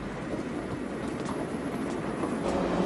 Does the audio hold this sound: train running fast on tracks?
yes